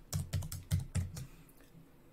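Quiet typing on a computer keyboard, a quick run of about eight close key taps that slows and fades toward the end, with no talking.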